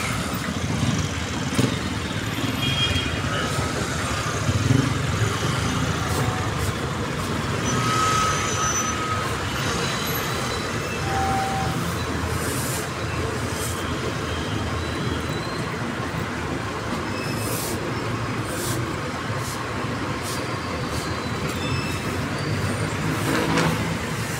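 Road traffic in Cavite after a typhoon: a continuous low rumble of passing cars and trucks, with occasional faint beeps and distant engine noise, steady and moderately loud.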